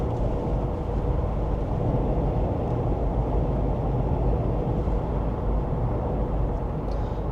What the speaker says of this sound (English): There's a little bit wind noise due to the boxy shape, as you can feel, but the tire roll noise and tire noise is very little